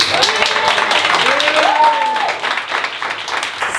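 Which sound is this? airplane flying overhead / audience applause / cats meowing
audience applause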